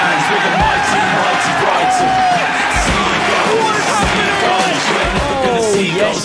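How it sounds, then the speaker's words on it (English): Loud, dense crowd noise fills a football stadium on match day between Manchester United and Brighton, with rising chants, whoops and shouts blending into a continuous roar close around the listener. "Feel the crowd jumping up."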